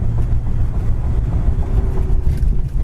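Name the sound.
muscle car transmission kickdown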